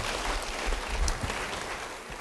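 A church congregation claps for a believer after a testimony, a soft, diffuse patter of many hands held at a steady moderate level, with no talking over it.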